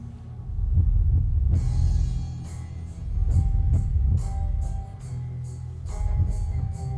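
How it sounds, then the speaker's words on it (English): Heartbeat sound effect in a superhero TV drama, deep low thumps in a slow steady rhythm under a faint tonal music bed, fairly loud and alone. "He hears the heartbeat."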